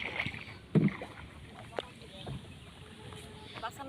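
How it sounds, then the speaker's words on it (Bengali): A small rowing boat is rowed across a village wetland where water lilies grow, with a few sharp oar splashes standing out over a low outdoor hush and faint voices. "আর এই যে দেখা যাইতেছে পিছনে রাহুল নৌকা বাইতেছে।"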